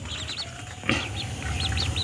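Newly hatched ducklings peep in repeated high, thin calls, a cluster at the start and another toward the end, close by over a low steady background rumble.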